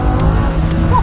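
A Lamborghini Huracan engine revs hard and close, a loud low roar with harmonic bands and quick rising blips in one brief burst, no talk over it.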